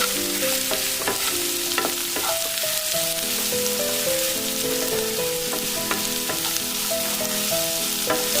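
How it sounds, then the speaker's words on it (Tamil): Two sliced white onions hit hot oil with mustard and fennel seeds, giving a loud, steady, crackling sizzle that continues throughout with light music playing underneath. "இப்போ நான் வெங்காயம் ஆட் பண்றேன். நான் இன்னைக்கு ஒயிட் ஆனியன் தான் எடுத்துருக்கேன்."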